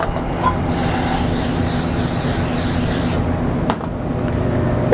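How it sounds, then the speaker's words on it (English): Non-stick cooking spray hisses from a can onto a pan in a loud, close burst lasting a few seconds, then cuts off to quieter kitchen background. "pan spray."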